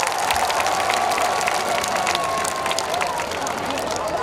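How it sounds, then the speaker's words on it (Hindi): A crowd at a Shri Krishna religious gathering applauds the donors, with vigorous clapping and cheering mixed with an excited din of voices. The sound stays loud and continuous throughout the short stretch. "एक बार इन सभी दानीदार जोरदार तालियां।"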